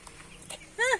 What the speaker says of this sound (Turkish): Bak civcivler korkuyor.